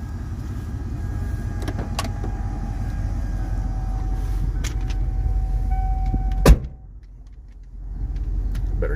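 A 1986 Ford F150 XLT Lariat bullnose pickup rumbles with a low, steady engine drone and interior clunks, then a sharp door slam cuts the noise briefly before the engine hum returns.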